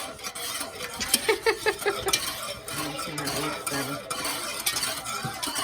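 Browning being stirred into the gravy of a stewed crab pot: a spoon repeatedly scraping and clinking against the metal pot in quick strokes, close and clear, with a faint simmer underneath and no voices.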